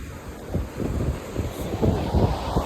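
Cold early-morning wind near Dwarka buffets the microphone in uneven low gusts, rumbling steadily with no one speaking.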